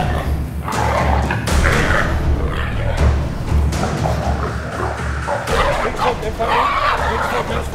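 Hunting dogs barking during a chase in New Zealand: repeated loud yips and barks mixed with thumps, rustling and movement noise, heard close and continuous.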